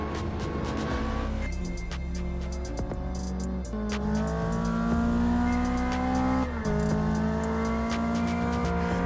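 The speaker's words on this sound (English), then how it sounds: "coming around the corner for the first warm-up lap in the Toyota MRS" A Toyota MR-S mid-engine sports car laps a race track, its engine droning and rising through the gears with steady high-pitched revving, heard close and loud from onboard with no talking.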